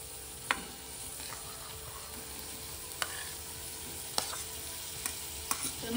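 Paneer goes into hot masala with the oil separating for paneer bhurji, and a soft continuous sizzle runs beneath it, broken by a few distinct spoon taps and scrapes against the pan.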